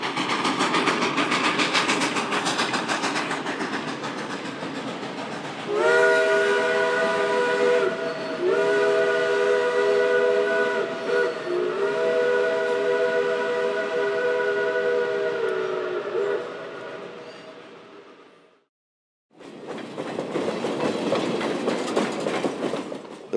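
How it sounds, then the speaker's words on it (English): A steam train on the Western Maryland Scenic Railroad in autumn sounds a long multi-tone whistle over a steady rumble of running gear. The whistle fades, there is a short silence, and then a loud close rumble follows. "the Western Maryland Scenic Railroad, where we'll enjoy steam in the autumn season"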